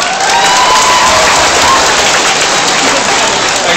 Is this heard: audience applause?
yes